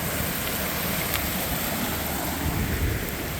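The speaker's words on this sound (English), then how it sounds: "Look at the amount of water coming down this little creek here." Storm runoff during Hurricane Debbie rushes down a small swollen creek at Crabtree Creek, a steady, loud broadband roar of churning water with wind buffeting the microphone throughout.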